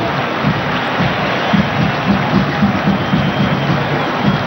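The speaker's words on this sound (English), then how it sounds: "You can start to feel the crowd getting behind Firpo" A stadium crowd at a football match cheers for Firpo in extra time, a broad, steady roar of many voices with slight swells, loud and close.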